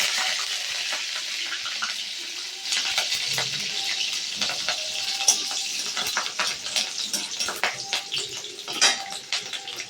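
Green chillies and garlic tempering in hot oil in a pan, a continuous bright crackling sizzle that grows busier partway through, with a few light utensil knocks and no speech.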